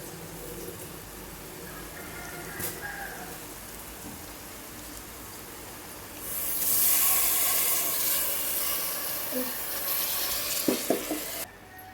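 Soaked, drained rice pours into a pot for beetroot biryani with a rushing hiss, followed by scraping and stirring sounds and a few knocks near the end.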